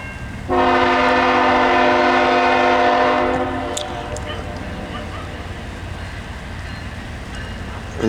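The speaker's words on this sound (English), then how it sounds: "Loaded ethanol train." Loaded CSX ethanol freight train approaching on the line near Mount Holly, its horn sounding one long loud chord for about three seconds before dropping away to a lower rumble of the passing train.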